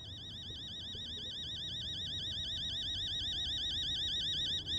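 An alarm clock in the horror game Fears to Fathom rings continuously, a loud warbling electronic tone that pulses rapidly and steadily for the whole stretch over a low room hum.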